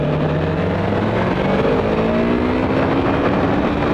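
A Yamaha YZF-R3 motorcycle engine held at three-quarter throttle near 9,000 RPM during a ride, a loud, steady, buzzing high-revving drone with a slowly falling pitch, close and continuous throughout.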